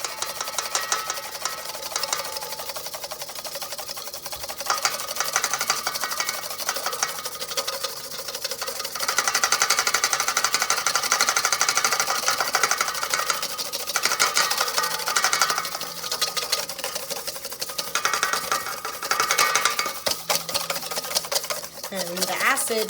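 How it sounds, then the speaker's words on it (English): A whisk beats extra virgin olive oil into egg yolk and Dijon mustard in a bowl, giving a fast, continuous rhythmic clatter that rises and falls in intensity, with a person talking over parts of it. "start to incorporate some extra virgin olive oil in a steady stream while whisking."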